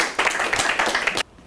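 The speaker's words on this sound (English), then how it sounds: "Let's give them a round of applause before we get started." A short burst of audience applause for essay contest winners, a dense patter of clapping for just over a second before it stops abruptly.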